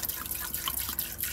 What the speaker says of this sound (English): I'm gonna dilute it with water